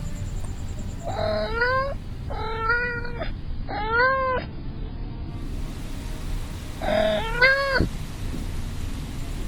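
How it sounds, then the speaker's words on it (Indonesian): Several high, chirping meow-like calls from a cheetah come in short bursts, two close together, a third, then a pause before a final pair, over a low rumbling background. "Tadi merupakan suara dari seekor cheetah."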